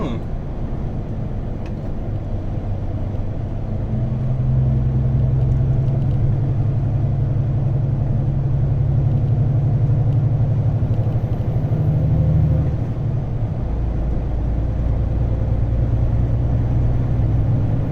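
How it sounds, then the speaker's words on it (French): A delivery truck rolls along a road in a steady, deep cab rumble that grows louder partway through and stays constant, with a voice talking intermittently over it. "Ça fait drôle de rouler sur ces routes-ci en camion"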